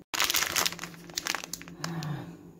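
An old, expired food packet is crinkled and crushed in the hands close up, giving a busy run of sharp plastic crackles and rustles with short pauses.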